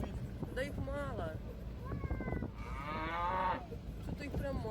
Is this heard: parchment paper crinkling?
no